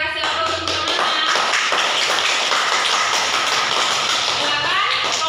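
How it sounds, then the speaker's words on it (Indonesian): Students in a classroom applaud their classmates with dense, rattling clapping that fills the whole stretch, while voices murmur underneath. "kasih aplaus untuk teman-teman"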